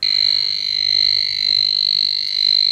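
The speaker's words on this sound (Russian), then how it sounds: "прибор издает световой и звуковой сигнал" A hidden wiring detector held against a live mains cable gives a steady, loud, high-pitched electronic tone that holds for the whole stretch with slight wavering and no pauses.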